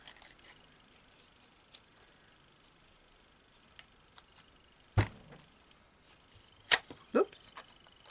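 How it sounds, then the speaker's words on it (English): Paper scissors cut through paper during ribbon embroidery work, making a few crisp, isolated snips. Quiet, close handling sounds fill the gaps between them, and a couple of cuts land in quick succession near the end. "And I'm just using my paper scissors."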